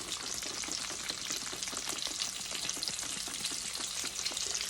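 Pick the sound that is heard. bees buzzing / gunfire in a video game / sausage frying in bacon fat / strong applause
sausage frying in bacon fat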